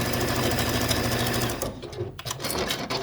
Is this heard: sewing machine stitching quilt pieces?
yes